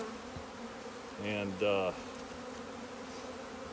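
A queen bee caged with five or six nurse worker bees hums quietly and steadily up close, rising into two short, louder buzzing bursts midway; a single brief spoken word is heard.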